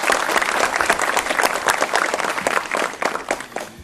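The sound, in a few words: audience applause at youth forum opening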